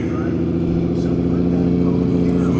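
A Nissan Skyline GT-R R32 pulls in at a car wash meet, its engine burbling loudly and close with a steady low rumble and slight revving, a voice briefly audible over it.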